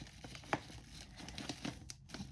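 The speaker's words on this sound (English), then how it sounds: "So I'll just put just a little bit of tape under there." Strip of tape pulled and torn while assembling a lavender holiday gift basket, a few soft crinkling and tearing bursts, faint and close.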